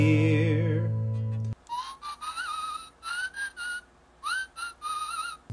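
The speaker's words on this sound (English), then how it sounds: "I hear a zookeeper whistling in my ear." A person whistles a short tune up close, several bright sliding notes in separate bursts with brief pauses between them.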